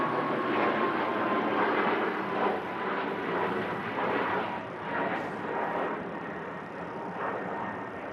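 A Ryanair airliner takes off at Manchester Airport, its jet engines making a steady, broad roar that holds at a moderate distance without letup.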